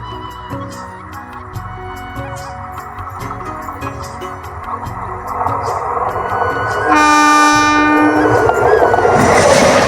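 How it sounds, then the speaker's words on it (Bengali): A train rumbles closer at a rural railway station in Bankura district, its rolling clatter growing louder until a loud, sustained horn blast sounds near the end. "তো গাইস ট্রেনটা খুবই কাছাকাছি চলে এসছে"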